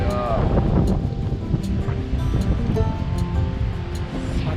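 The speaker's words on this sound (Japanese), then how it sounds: "波が炸裂しております。" Heavy surf crashes continuously during a typhoon, a dense, roaring wash of breaking waves close by with wind buffeting the microphone throughout.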